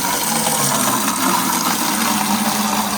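Water rushes steadily into a bucket from an automatic filling setup in a garage, a loud, constant close-up pour.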